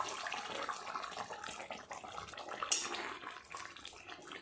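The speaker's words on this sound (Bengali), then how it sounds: "টকবক করে ফুটছে মাছের কালিয়া" Bhangar fish kalia, a Bengali fish curry, boils uncovered in a pan with a soft, continuous bubbling and faint popping, quiet and close.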